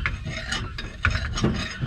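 Metal being ground down to take off burrs and high spots during work on a 1957 Chevy, a harsh, rasping scrape close by with uneven bursts and gritty mechanical texture, with no talking.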